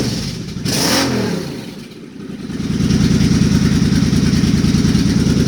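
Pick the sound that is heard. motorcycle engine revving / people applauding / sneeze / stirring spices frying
motorcycle engine revving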